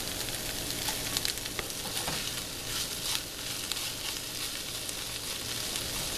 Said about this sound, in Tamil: இப்போ இது நல்லா குக் ஆகிடுச்சுங்க. உங்களுக்கே தெரியும் நல்லா ரோஸ்டாக இருக்குது.